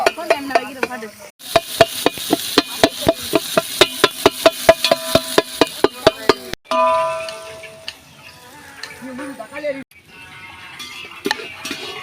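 Tomatoes sautéing in a pan for parotta, stirred with a quick run of sharp regular metallic clinks over a steady sizzle, then looser scraping with frying in the background.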